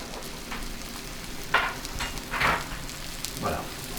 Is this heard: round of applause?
no